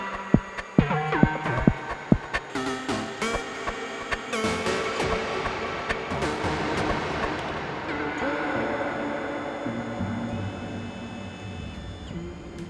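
A synthesized engine-like drone from the MotorSynth instrument, with plucky attacks at the start, settling into a sustained humming, throbbing tone washed in reverb.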